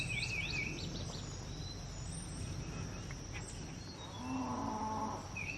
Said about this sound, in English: Man, those cows are loud today.